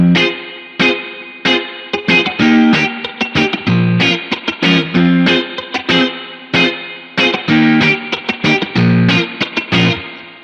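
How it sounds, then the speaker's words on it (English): Lo-fi guitar sample with old spring reverb from an Axe-Fx effects unit, loud choppy chords and bursts in irregular rhythm, each with a short ringing tail, played alone without talk. "this was this lo-fi sample with this old spring reverb on it"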